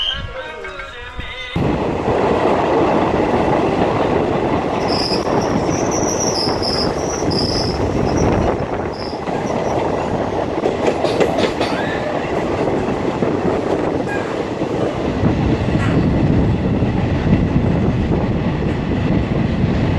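Train running on rails, a loud, continuous close-up rumble from inside the carriage with wheel noise and occasional high squeals, steady for the whole stretch after a short quieter start.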